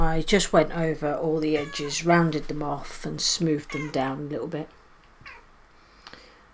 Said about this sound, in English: If you hear meowing, it's Lily in the background.